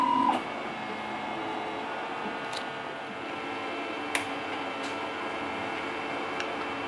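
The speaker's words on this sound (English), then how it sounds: "you can see the skirt has already been printed, and going ahead and printing out my dice" A 3D printer prints a set of dice, giving a faint, steady mechanical hum with soft stepper whirring and a few brief clicks, heard close by with no talking.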